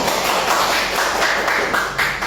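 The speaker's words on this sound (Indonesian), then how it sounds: "Tepuk tangan untuk kelompok 1." A classroom of students claps together in a quick burst of applause, dense and fairly loud with no talking over it.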